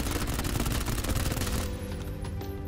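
A suppressed Vector submachine gun with a laser sight and a 33-round magazine fires in PUBG, a loud continuous rapid burst of shots that tapers into quieter echoing fire near the end.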